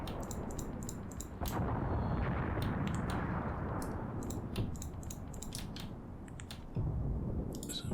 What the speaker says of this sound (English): There's some firing going on up there